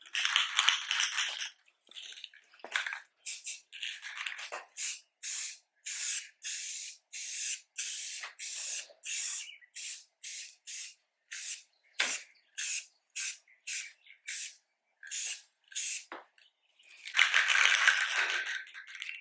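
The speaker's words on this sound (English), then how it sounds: "Same process with the paint, 2 to 3 light coats, and wait a few minutes in between." Spray paint from an aerosol can applied in light coats to faded plastic car trim, heard as a long series of short, close hissing bursts with brief gaps, ending in a longer spray.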